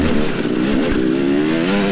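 A dirt bike on a motocross course in Cadiz, Kentucky, its engine loud and close with a sustained buzzing drone that rises slightly in pitch.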